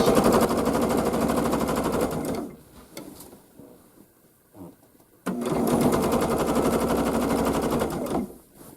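A sewing machine stitches a floral zig zag quilt in close, rapid mechanical runs, stopping for a few seconds of quiet handling and small clicks before starting again and then halting.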